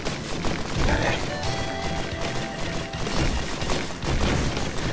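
Rapid gunfire in the video game Risk of Rain, a dense, continuous burst of shots and impacts layered with game effects, loud and steady throughout.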